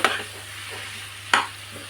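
Spoon stirring spicy Andhra-style chicken fry in a pan, two distinct scraping strokes about a second apart over a faint steady sizzle, close and moderately loud with no talking.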